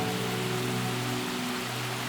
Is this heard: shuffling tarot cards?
no